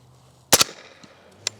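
A suppressed X16 pistol fires one round into a dirt berm at an outdoor range, giving a sharp, close double-edged crack with a short fading tail, then a faint click a moment later.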